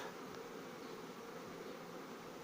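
A steady, dense buzzing of many Carpathian honey bees hums continuously at close range during queen rearing, unchanging throughout.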